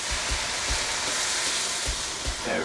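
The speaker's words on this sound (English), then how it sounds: "So I'm gonna put in the eggs here together" Eggs frying in a pan with vegetables, a steady loud sizzle with a broad hissing texture throughout, punctuated by a few soft low knocks.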